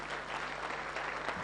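Audience applause for politicians at a church gathering: a dense, steady burst of many hands clapping together at close range, sustained throughout without a break.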